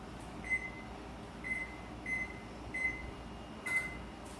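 An oven control panel is set to preheat with five short, high electronic beeps at uneven intervals. They sound quiet and close over a faint hum, with no talking.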